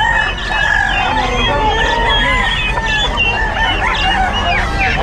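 Chickens and chicks cluck and a rooster crows repeatedly at a pet market in Bocaue, with busy layered calls over a steady crowd babble.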